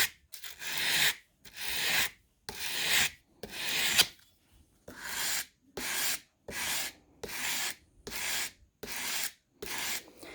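A straight saddlery knife blade is drawn across a sharpening stone in steady, rhythmic rasping strokes, about a dozen close, even passes with brief pauses between them.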